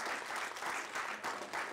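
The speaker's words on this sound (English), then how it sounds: "Please round of applause to the entire TiE secretary team" A brief, full burst of audience applause for an entrepreneurship organisation's secretariat team, a dense crowd clapping that is loud and continuous for its short length.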